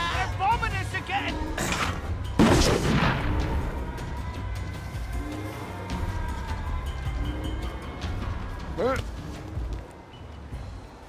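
Bombing raid in We Happy Few, with a big explosion boom followed by rumbling gunfire and chaotic battle noise throughout, and shouting voices mixed in.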